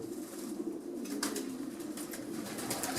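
Fancy breeding pigeons in a loft coo softly and steadily, a low murmuring drone from several birds at once, with a few brief rustles and wing flutters mixed in.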